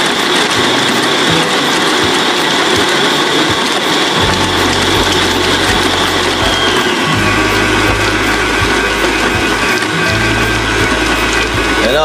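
An electric mixer beats sugar and butter together at high speed, a loud steady whirring grind with rhythmic low mechanical churning that pulses through the mixture.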